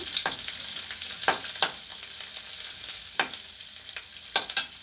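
Ginger and garlic sizzle steadily in hot oil in a pan, the base for a capsicum chutney, with sharp scraping stir strokes recurring every second or so close by; no voices.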